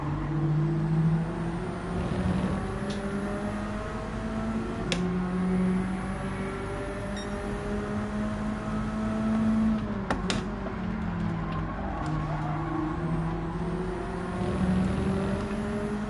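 A racing car engine in Gran Turismo 7 revs hard and steadily, its droning whine climbing and dropping through gear changes for the whole stretch, loud and close with no talk over it.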